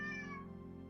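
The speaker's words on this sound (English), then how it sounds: "what sounds like the meowing of a small cat" A small black cat gives a single short, clear meow that starts bright and slides downward before fading, heard alone and close.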